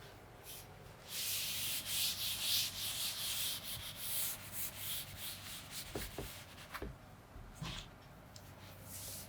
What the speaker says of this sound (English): So I'm rubbing this part